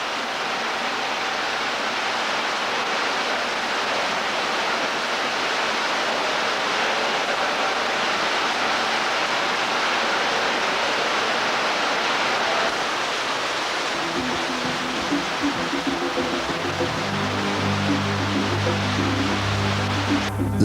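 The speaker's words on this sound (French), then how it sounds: "La cascade du réseau Nord nous offre un spectacle féerique." An underground waterfall in a cave's northern passage roars as a steady, broad wash of falling water; a lower rumbling layer of tumbling water joins it near the end.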